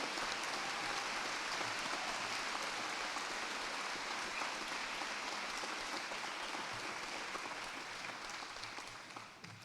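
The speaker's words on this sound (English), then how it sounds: "Big round of applause for Dr. Anne O'Byrne." Sustained audience applause at a university graduation ceremony at Mary Immaculate College, a dense, steady wash of many hands clapping that holds evenly for nearly ten seconds before easing slightly at the end.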